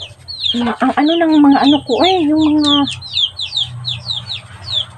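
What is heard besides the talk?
small chickens clucking noisily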